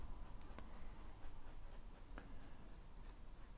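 A felt tip marker scratches and squeaks across paper in quick, close strokes, soft and dry, with brief louder scrapes.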